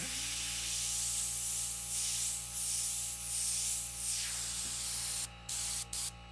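An airbrush sprays paint in steady hissing bursts while darker hawk feathers are being painted, the spray swelling and easing in several passes before cutting off with a few short stops near the end.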